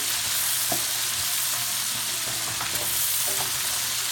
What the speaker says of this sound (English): See, I got the onions there, sauteing. Also have some fresh carrots. We're gonna saute.